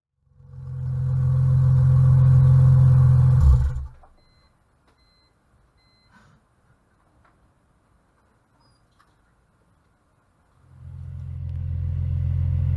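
A BMW E46 with a muffler delete and its exhaust pipes cut short revs loudly in an enclosed space, a deep booming surge that drops to near silence before a second rev builds at the end.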